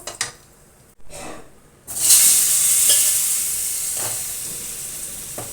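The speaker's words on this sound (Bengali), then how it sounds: "এই তেলের মধ্যে ছোট চামচের হাফ চামচ মতো কালো জিরে ফোড়ন দিয়ে দিলাম। এবার এর মধ্যে আলুগুলো দিয়ে দেবো।" Potatoes go into hot oil tempered with black cumin seeds. Soft crackles come first, then a loud, steady sizzle swells up and holds to the end.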